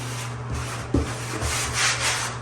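Abrasive scuffing of a semi-gloss painted wainscoting surface before repainting, continuous close rubbing and sanding strokes with a brief knock, over a low steady background hum.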